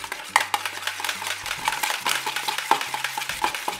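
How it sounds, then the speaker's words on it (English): Mango yogurt batter is whisked briskly in a bowl, a close, rhythmic run of wet scraping strokes with light clinks against the sides. "so whisk it"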